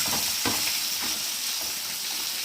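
Pieces of rohu fish, several at once, sizzle steadily on a flat iron tawa, a dense continuous crackle of frying oil with a few soft pops and clicks, close and alone.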